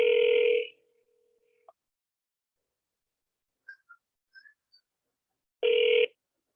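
A telephone ringing with no one picking up: a loud electronic ring burst near the start and another about five seconds later, with faint scattered sounds in the quiet between.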